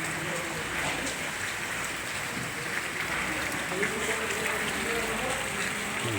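Heavy rain in Gundlupet pours in a steady, dense hiss of falling drops and running water, continuous and close, with someone talking faintly through it.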